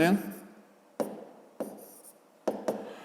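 Pen strokes on paper during a fifth-grade maths exercise come as a few sharp, separate taps and scratches at close range, spaced irregularly.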